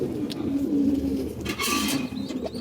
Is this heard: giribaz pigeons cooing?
yes